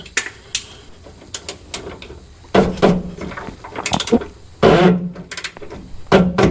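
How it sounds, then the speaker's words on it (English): A ratchet clicks in repeated bursts while tightening the fuel filter housing on a Ram 6.7L Cummins diesel, with sharp metallic pawl ticks and short pauses between strokes, close and clear with no talk. "I'll start to rotate the housing and get it started and do it by hand until it's tight, and then use the ratchet"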